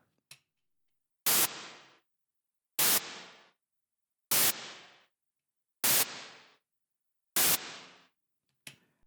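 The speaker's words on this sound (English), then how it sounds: "let's just hear the white noise with the snare verb" Five evenly spaced bursts of white noise processed with snare reverb, each a sharp hit trailing off into a short reverb tail, separated by silence.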